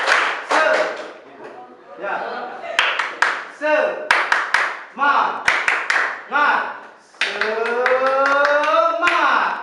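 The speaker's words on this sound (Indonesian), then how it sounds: "Kita tepuk semangat saja, biar semangat" Students in a classroom lesson perform tepuk semangat, a rhythmic group hand-clapping routine, in short synchronized bursts of crisp claps separated by pauses. Voices shout and chant along with the clapping.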